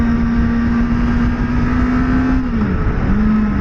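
Kawasaki Ninja ZX-4RR motorcycle engine holding a loud, steady close-up drone whose pitch dips briefly and then settles again as the bike pulls along.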